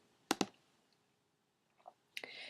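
Two quick, close mouse clicks on a clock-shaped reminder icon in the Evernote note-taking app, heard crisply in a quiet room, followed later by faint rustling and a soft burst of noise.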